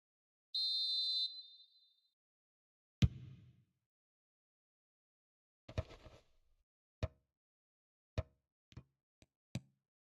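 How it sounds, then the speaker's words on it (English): A short, bright referee whistle blast in the eFootball video game, followed by a few sparse knocks and taps spread out over the rest of an otherwise quiet stretch. "the whistle's gone, presumably for offside"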